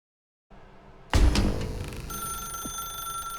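A telephone rings in the video game The Stanley Parable: Ultra Deluxe, a loud bright ringing bell that starts abruptly after a short quiet stretch and holds steady tones over low background hum, with no talking.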